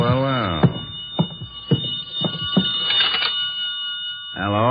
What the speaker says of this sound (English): I could hear the phone ringing from somewhere inside